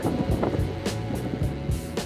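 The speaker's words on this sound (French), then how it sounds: "Il y a du vent, c'est normal." Wind buffeting the microphone while riding an electric bike in mid-March: a gusty, rumbling rush with repeated short bursts of louder wind noise throughout, no voices.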